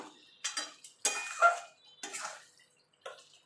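Chicken is stirred in a pan for a dry, waterless chicken dish: a few scattered clinks and scrapes of a utensil against the pan, with short taps separated by pauses.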